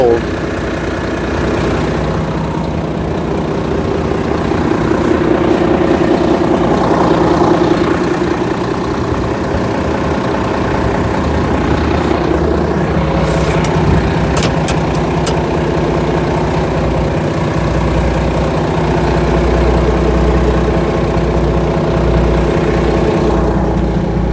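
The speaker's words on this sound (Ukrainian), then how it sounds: "Працює, як чуєте, ісключительно." A 2017 Volvo FM410 Euro 6 truck engine idles in a steady, low diesel rumble throughout, with someone talking over it.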